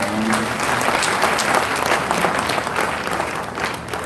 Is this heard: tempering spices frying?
no